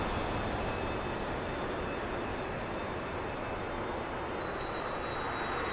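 A jet aircraft in a combat flight simulator game lands with a steady, continuous engine roar that holds at an even level throughout, with no talking.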